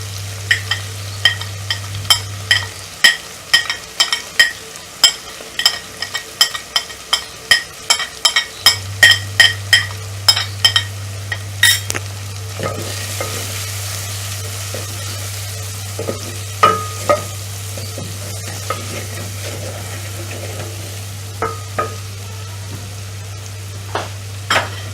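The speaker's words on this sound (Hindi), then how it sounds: "अदरक और लहसुन मसाले में भून रहा है" Ginger, garlic and spices fry in a pan for an aloo matar curry, a steady sizzle running throughout while a spoon scrapes and stirs in quick rhythmic clicks, busiest in the first half, with no talking.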